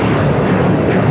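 An Air China airliner roars on its takeoff run from runway 25 right at LAX, a loud, dense, steady engine rumble filling the brief moment with no voices over it.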